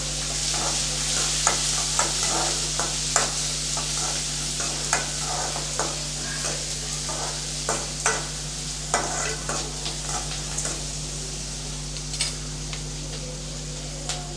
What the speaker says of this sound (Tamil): இதில் ஒரு பெரிய வெங்காயம் நான் பொடியாக கட் பண்ணி வச்சுருக்கேன் இப்போ அதை சேர்த்துக்கலாம் கொஞ்சம் செவக்க நல்லா வதக்கி விட்டுக்கலாம்